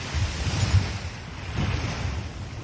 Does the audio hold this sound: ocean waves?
yes